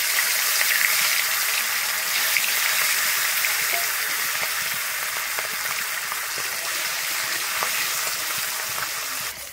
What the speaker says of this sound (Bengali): প্রথমে আমি মাছের মাথাটাকে ভেজে নিচ্ছি